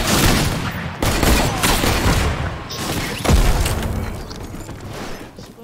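Explosions in Fortnite prop hunt, a loud dense barrage of booming blasts with sharp bursts near the start, one and a third of the way through, and a heavy hit past three seconds, trailing off into rumbling.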